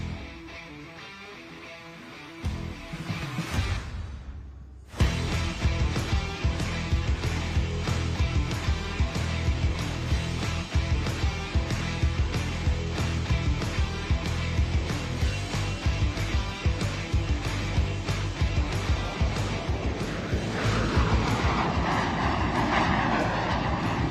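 A powerful T-33 Shooting Star jet engine roars in abruptly after a brief quiet lead-in, staying loud and sustained as the plane sweeps low overhead in a dirty pass at an air show.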